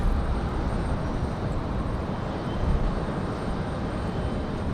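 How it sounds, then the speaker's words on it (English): An Air France Boeing Dreamliner prepares to push back at Raleigh-Durham International Airport, its engines a steady, fairly faint broadband roar that holds even throughout. "Air France in that Dreamliner. Getting ready to roll out now."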